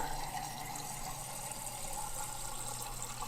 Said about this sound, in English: we get the water like straight out of the contraption in the fridge